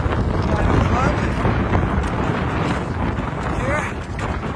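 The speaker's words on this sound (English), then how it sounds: "A little bit windy today." Strong wind buffets the microphone in a continuous roar during the Montane Arctic Spine expedition race, rising and falling slightly, with faint voices under it.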